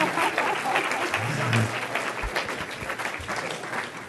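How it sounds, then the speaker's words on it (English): An audience claps after a transportation lecture at SFU, a dense burst of applause that thins and fades out toward the end. "I don't think I've ever been to an event where people have actually applauded the PowerPoint slides."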